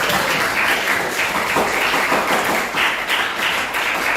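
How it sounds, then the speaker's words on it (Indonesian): A classroom of students gives steady, dense applause for a classmate who has just recited a pantun, the clapping even and sustained throughout with no talk over it. "berikan tepuk tangan untuk teman kalian"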